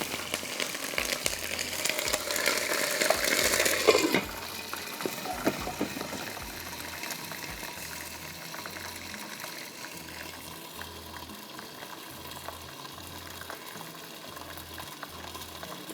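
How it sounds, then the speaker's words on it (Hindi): Water poured into frying ginger, garlic and curry leaf masala for daal mash sizzles and hisses loudly at first, then settles into a quieter steady simmering bubble. "थोड़ा सा पानी डाल रही हूँ"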